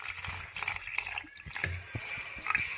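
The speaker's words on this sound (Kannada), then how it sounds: "ಸುಮಾರು 1 ಕಪ್ ಆಗೋಷ್ಟು ನೀರು ಹಾಕಿದ್ರೆ ಚೆನ್ನಾಗಿ ಮಿಕ್ಸ್ ಆಗತ್ತೆ" Water is poured into a jackfruit idli batter made with rava, a short close trickle and splash with small drips over a few seconds.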